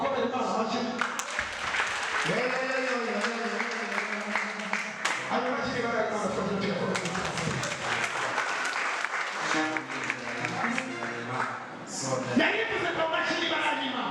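Church congregation clapping and cheering at a Kinyarwanda-language worship service, sustained loud applause with voices and shouts mixed throughout, a brief dip near the end before it swells again.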